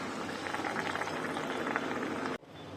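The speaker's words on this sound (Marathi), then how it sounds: "अशी लगेच आपल्याला तेलामध्ये टाकायचे" Battered green chilies for mirchi vada frying in hot oil give a dense, steady bubbling hiss up close that cuts off abruptly near the end.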